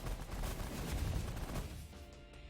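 Rapid minigun fire from the space strategy game The Last Federation, a dense continuous roar of shots that runs steadily for about two seconds before thinning out, loud and without talk.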